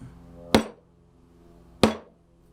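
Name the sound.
mallet tapping a chisel into wood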